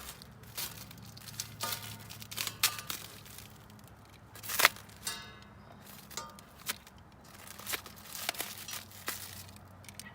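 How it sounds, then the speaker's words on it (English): Plastic saran wrap packing being cut and pulled off trim rings for Rugged Ridge XHD wheels, faint scattered crinkling and snipping with sharp tearing bursts, soft and close with no voices. "Looks like they just threw a little saran wrap or some packing stuff around them. I'm gonna cut that off quickly."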